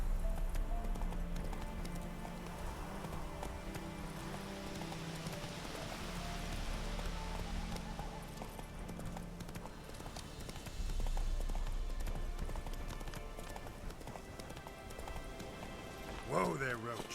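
Roach the horse galloping in The Witcher 3 video game, rhythmic hoof clip-clop running under game music and ambience, moderately loud, with a brief sharp sound near the end.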